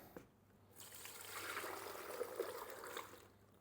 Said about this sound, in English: now we're gonna take these soft peppers and we're gonna pour out the juice